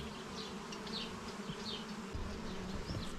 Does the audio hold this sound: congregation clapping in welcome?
no